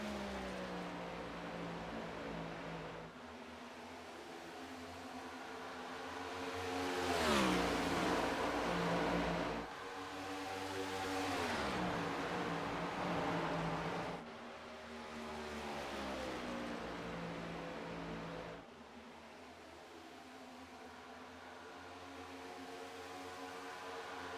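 NASCAR race cars in the iRacing sim roar continuously at high revs, the engine pitch rising and dropping through shifts and corners, with cuts between cars in a steady, fairly loud drone.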